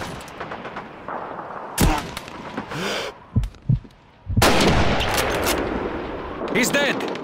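Gunfire in Call of Duty 2 during a city hall battle: a few sharp, loud shots and bursts separated by gaps, mixed with in-game voices and ambient combat noise.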